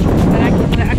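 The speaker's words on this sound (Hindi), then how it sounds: "बड़ी तेज तेज हवा आए" Strong wind blowing outdoors in a Pakistani village, a loud steady rush of wind buffeting the microphone from start to finish.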